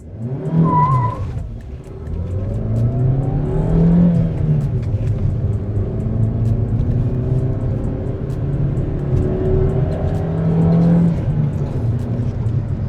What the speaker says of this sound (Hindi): बाकी करते हैं कार को लॉन्च।